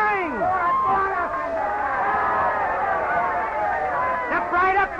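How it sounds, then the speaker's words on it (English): Crowd cheering at a boxing fight in an early 1930s film: a continuous, fairly loud roar of many voices with rising shouts and yells layered over the babble, swelling again near the end. "Listen to the cheering."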